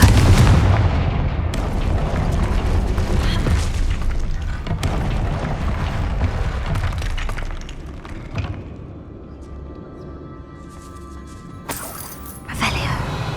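A Confringo spell detonates in Hogwarts Legacy with heavy booms and crackling blasts, loud and dense at first and then thinning into scattered cracks and a final burst, while a voice speaks over the action.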